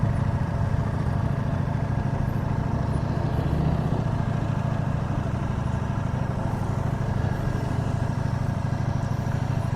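A Ducati Panigale V4 motorcycle engine under way while riding, a steady, deep, continuous drone with a low rumble and constant wind rush, loud and close throughout, with no talk.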